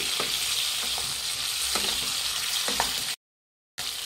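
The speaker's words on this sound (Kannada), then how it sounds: "ಹೈ ಫ್ಲೇಮಲ್ಲಿ ಇಟ್ಬಿಟ್ಟು ಇದನ್ನು ಫ್ರೈ ಮಾಡಬೇಕಾಗುತ್ತೆ" Tomatoes and garlic frying on a high flame in a pan, a steady loud sizzle with periodic scraping stirs, then a brief cut to silence before the sizzling returns.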